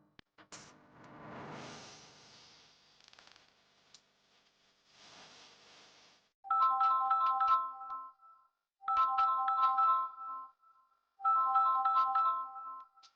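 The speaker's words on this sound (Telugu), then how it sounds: "ఆ అబ్బాయి ఫోన్ వస్తుంది చూడు" A phone ringtone plays in three loud, evenly spaced bursts of a repeating electronic melody, following a stretch of quieter background sound in a household scene from a Telugu TV drama.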